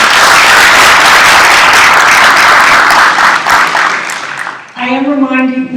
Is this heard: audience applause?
yes